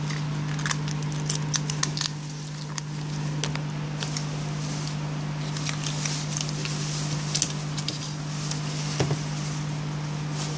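A back frame is fitted onto a Samsung Galaxy Note 3 during a display module replacement, with a scatter of small plastic clicks and snaps close up over a steady electrical hum.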